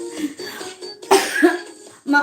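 A woman coughs several times in short bursts close to the microphone, mixed with brief talk.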